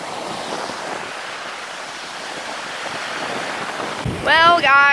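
Ocean surf washes on a beach in a steady, windy rush, with wind buffeting the microphone, before a voice cuts in near the end.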